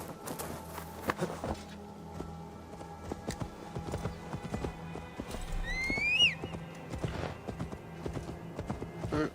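Horse hooves clip-clop in a steady walking rhythm in the video game Assassin's Creed Valhalla, with a brief whinny partway through over a faint background hum.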